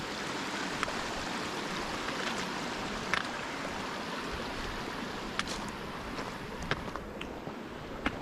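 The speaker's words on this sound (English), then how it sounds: "Lots and lots of water sources right across trail, just like this one." A small stream runs across a hiking trail on the West Highland Way in Scotland, a steady close rush of flowing water with a few faint clicks and taps over it.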